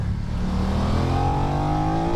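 A 2025 BMW F900 motorcycle engine revs hard and close, its pitch climbing steadily into a high scream over two seconds with no talking.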